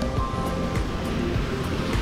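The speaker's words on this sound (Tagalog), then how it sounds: "Lakas ang agos, oh." Strong river current rushes steadily at a river resort, a continuous broad roar of moving water close by with no pauses.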